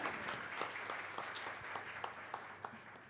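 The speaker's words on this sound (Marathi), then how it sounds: "पण संगीतकारासाठी मला वाटतं पुन्हा एकदा स्वतंत्र टाळ्या" An audience applauds the music composer at a Marathi musical tribute evening on Shanta Shelke's poetry: steady, dense clapping, fairly faint and distant, with a few sharper individual claps standing out.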